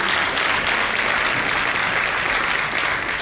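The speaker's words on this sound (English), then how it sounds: "A round of applause to Mercedes-Benz for making it all happen." Sustained audience applause fills a hall at a motorcycle-themed stage event, loud and steady with dense overlapping claps and no gaps throughout.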